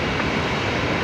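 An Airbus A220 jet roars steadily at Brisbane Airport as it departs from runway 01 right, a broad, loud engine rumble filling the whole brief moment with no voices.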